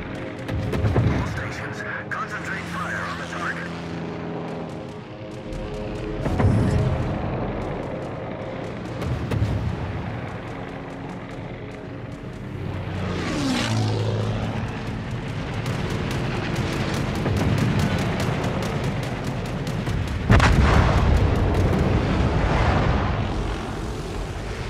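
The battleship Alabama's main guns fire in the naval game World of Warships, with deep booming blasts and rumbling shell noise over a steady engine and sea drone, while game voice callouts speak between the shots.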